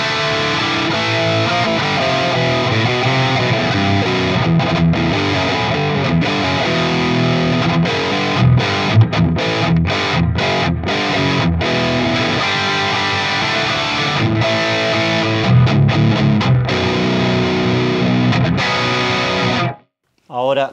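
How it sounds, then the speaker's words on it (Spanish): Distorted electric guitar runs through a KSR Colossus lead channel modeled on an Axe FX 3 with no delay, loud and continuous with sustained chords and choppy stabs, then cuts off abruptly near the end. "escucha primero cómo suena la distorsión sin ningún tipo de delay"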